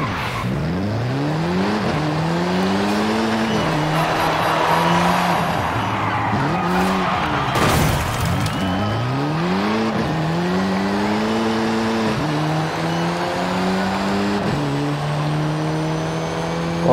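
A tuned and upgraded Mercedes-Benz A 45 AMG races in Forza Horizon 5, its engine climbing and dropping through repeated gear shifts with a steady rhythm. Tires squeal intermittently beneath the sustained, loud, close-up motor drone.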